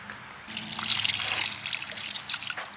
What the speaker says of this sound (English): water in here to kind of rinse it.